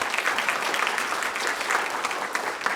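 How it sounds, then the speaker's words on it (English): Steady applause from an audience at the end of an academic talk on interpreting deep neural networks, a dense even clatter of many hands clapping throughout. "Let's give a hand of applause."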